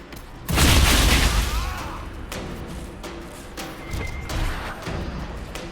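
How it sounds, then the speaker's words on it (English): A big explosion in the video game Dragon Age Inquisition: a deep, heavy boom that erupts suddenly and rumbles loudly for about a second, then settles into a lower, continuous roar of battle noise with scattered impacts. "That's a big kaboom"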